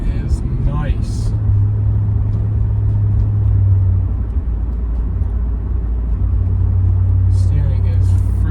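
A 2006 Chevy Silverado pickup driving, its steady low engine and road rumble filling the cab up close, with a few brief voice fragments over the drone.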